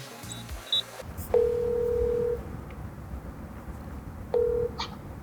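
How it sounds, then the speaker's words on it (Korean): Touch-tone telephone dialing: a couple of quick keypad beeps, then two steady tones, one longer and one shorter, as a call is placed, with no voices. "잠깐 디스플레이 전문가분한테 전화 연결을 해서 여쭤보도록 하겠습니다"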